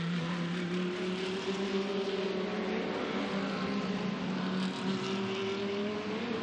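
A GT race car in a Blancpain GT Series Asia 2017 race at Zhejiang, its engine holding a steady droning note that rises gradually in pitch, continuous and fairly close.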